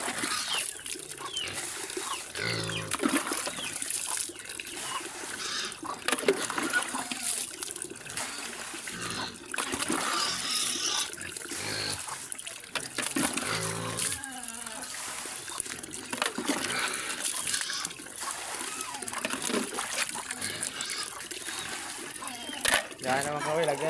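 Water pours for pigs on a farm, trickling and splashing unevenly alongside occasional grunting, with voices talking nearby.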